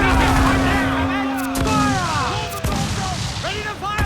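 Ship cannons fire in a naval battle in Assassin's Creed Black Flag, a burst of booming volleys with a sharp crack near the middle, under shouted crew voices and a steady tone early on.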